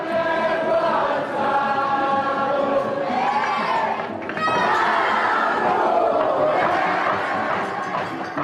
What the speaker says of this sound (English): There are rousing choruses all cheering their contradas.